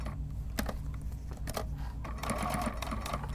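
Sewing machine stitching and backstitching fabric for a handmade bottle holder, a steady low motor hum broken by quick mechanical clatters, close and moderately loud, with no one speaking.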